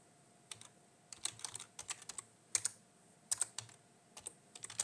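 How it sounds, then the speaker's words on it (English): Someone types on a computer keyboard with a single finger, producing sparse, irregular clicks that come singly and in short bursts, close and fairly quiet over a low, steady background hum. "My typing is horrific. It's one finger typing."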